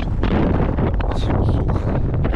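Strong wind on a dry, stony beach at Kamenka in Yeysk, where the water has receded, buffets the microphone in a loud, continuous roar with low rumbling gusts and no talking.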